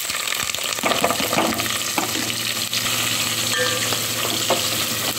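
Whole spices frying in hot oil for homemade mushroom biryani: a steady, close crackling sizzle with scattered pops and stirring clicks throughout, no talking.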